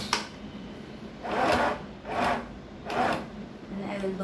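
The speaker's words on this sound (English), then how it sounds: "just stitch all over the area of the locking to lock it" A sewing machine runs in three short bursts, stitching back and forth to lock an elastic band onto the hipline of underwear. Each run is a soft, close whir with quiet pauses between.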